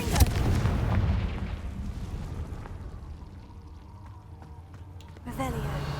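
A Confringo blasting spell in Hogwarts Legacy erupts with a heavy explosive boom inside a cave, rumbling and fading over several seconds before a voice speaks at the end.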